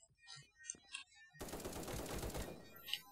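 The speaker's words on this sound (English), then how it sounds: "Oh, he's got a shotgun." Gunfire from the browser shooter Krunker.io follows a few sparse game blips and lands as a sudden dense burst of rapid shots lasting about a second, then trails off into a final blip.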